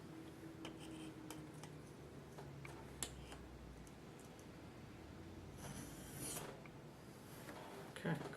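A knife is honed on the smooth side of a sharpener, giving faint, quiet rasping strokes that repeat at a steady pace, with nothing else around them.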